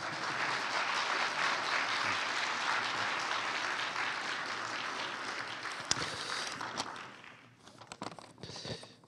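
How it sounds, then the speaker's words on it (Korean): An audience applauds for Father Yang at a 40th anniversary celebration of a Christian environmental movement institute, a dense, sustained clapping that continues for several seconds before thinning into scattered claps and shuffling. "양 신부님께도 박수."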